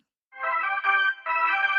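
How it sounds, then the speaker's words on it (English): A phone ringtone interrupts a podcast conversation, a bright electronic melodic tone in two bursts with a short gap, heard loud and clear with no talking over it. "Sorry, is that your ringtone?"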